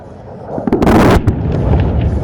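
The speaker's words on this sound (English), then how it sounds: "He's locked on to the target. Bombs away." Bombs dropped by an Indian Air Force aircraft explode on target during a firepower demonstration, one heavy blast rumbling loudly in the distance and then a sustained roar.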